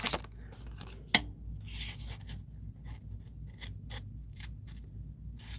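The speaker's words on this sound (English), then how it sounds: "And cut this circle out." Scissors snip through paper while cutting out a circle, giving a string of short close cuts and rustles, with two sharper clicks early on and quieter snips spaced irregularly after.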